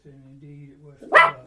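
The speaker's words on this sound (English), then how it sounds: "That's my dog." Pet dog gives a single sharp bark near the end, following a low hum and a voice speaking.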